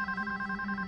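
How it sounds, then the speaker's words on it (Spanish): A telephone bell rings steadily with sustained bright tones, alone and fairly loud in an indoor domestic setting. "¿Qué, no piensa contestar el teléfono?"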